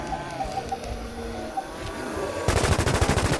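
Rapid automatic gunfire from a weapon firing at a boss in the online shooter WarZ Siam MMO, breaking out loudly and steadily in the final second after a quieter stretch of game ambience with faint chirps.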